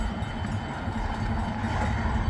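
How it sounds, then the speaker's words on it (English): An RS3 diesel switcher locomotive of the Minnesota Transfer Railway rumbles at a railway museum, a constant mid-level engine and rail noise that holds steady throughout. "Better look at our Minnesota Transfer Railway switcher."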